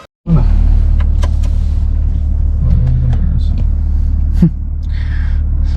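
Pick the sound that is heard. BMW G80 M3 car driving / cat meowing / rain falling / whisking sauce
BMW G80 M3 car driving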